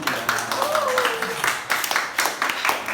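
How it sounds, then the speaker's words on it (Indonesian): A classroom of students clapping hands after a group discussion, a few scattered claps over a sustained tonal voice or whistle-like sound, fairly close and moderate in loudness. "Ya, tepuk tangan dulu."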